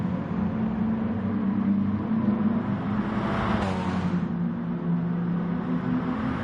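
Hot hatch race cars lapping Tsukuba in Gran Turismo Sport, a steady engine drone with a rising whine as a car passes close near the middle, continuous and moderately loud with no talk.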